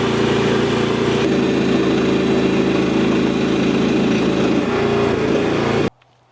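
A small engine on a Harbor Freight towable backhoe runs steadily and loudly up close with an even idle drone, then cuts off abruptly near the end.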